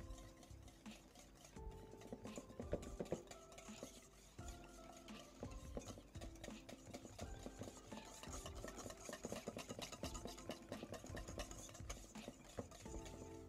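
Melted butter being stirred into cream cheese for a Japanese cheesecake, a steady scraping, clinking whisk or spoon against a bowl, close and continuous with rhythmic strokes and no talk.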